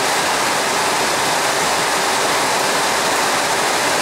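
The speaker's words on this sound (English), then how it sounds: "See it leaking all over my truck?" Steady stream of water running through a leaking carport roof onto a truck below, a loud, close, continuous rushing splash with no voices.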